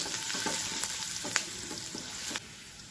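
Garlic sizzling in hot oil in a pan, a steady crackle with several soft stirring knocks and one sharper clack, close and unaccompanied by speech, cutting off near the end.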